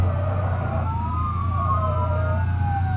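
Several police sirens wailing together in the BeamNG.drive game during a chase, rising and falling pitches overlapping above a low steady engine drone.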